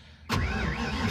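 A car with custom tail pipes cranks and fires up abruptly, then settles into a loud, rumbling idle close by, with no talking.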